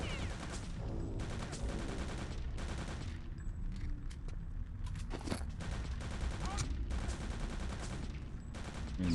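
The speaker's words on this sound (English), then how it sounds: "Why are you shooting at me?" Rapid bursts of gunfire in the first-person shooter Return to Castle Wolfenstein, with dense overlapping shots and volleys filling most of the span, loud and close throughout.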